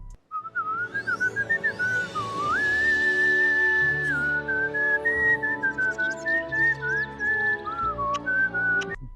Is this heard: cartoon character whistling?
yes